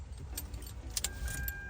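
A key turning in a replaced Hyundai/Kia ignition, with faint, brief jangles and clicks of keys against a quiet background.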